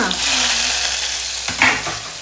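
Onions sizzling in hot oil for pepper chicken on a sim flame, a steady loud frying hiss with a brief stir or clatter partway through.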